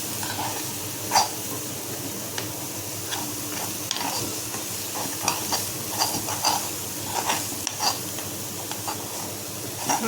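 Spicy Korean-style desi Yippee noodles are stirred in a hot pan, with irregular scraping clicks of the utensil over a continuous loud sizzle.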